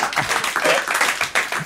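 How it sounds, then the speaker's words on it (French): Studio audience applause on a French TV talk show, a dense wash of clapping hands filling the short moment at close range, with a host's voice faintly underneath. "On vous applaudit tout de même"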